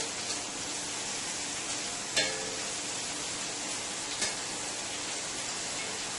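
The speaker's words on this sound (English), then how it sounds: "we're going to give the shrimp a nice flip here and let the other side cook for about another 2 minutes." Shrimp sizzle steadily in a pan after being flipped, a loud continuous frying hiss with a couple of faint clinks, no one talking.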